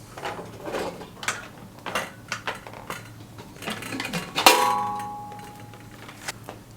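A pressure cooker lid is opened after cooking lentils with chalta, with scattered metallic clinks and clatter and then one bright ringing clang that slowly fades, followed by a few more light knocks.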